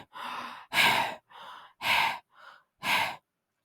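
A voice imitates a monster's panting with about six heavy, breathy huffs in an uneven rhythm, each a loud, close rush of air separated by short pauses, with no words spoken.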